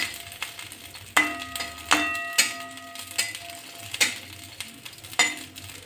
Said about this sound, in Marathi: लसण आणि मिरची दोन्ही थोडंसं भाजून घेतलेलं आहे